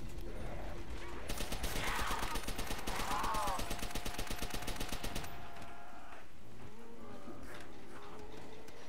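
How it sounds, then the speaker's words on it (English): Rapid sustained automatic gunfire in Call of Duty Zombies on the Verruckt map, a loud rattling burst lasting several seconds before cutting off into quieter game ambience with muffled voices. "How is he shooting with no ammo?"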